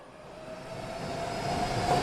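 A train rolls along with a continuous rumbling roar that builds steadily louder, heard close by with no talk.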